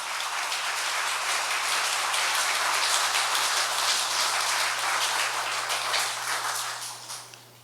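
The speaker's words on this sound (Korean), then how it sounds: "우리 박수하겠습니다." Church congregation applauding to welcome a newly ordained pastor to the pulpit: steady, dense clapping from a large crowd fills the room evenly throughout, then tapers off at the end.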